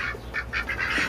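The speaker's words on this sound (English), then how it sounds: "Wednesday, some tough duck you are" A duck quacks five or six times in a quick, evenly spaced run, close and loud over a low steady outdoor hum.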